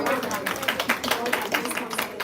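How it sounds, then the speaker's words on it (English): A panel audience at an entrepreneurship leadership discussion gives a round of applause, a dense wash of many hands clapping together at moderate volume, with a voice faintly mixed in. "Round of applause"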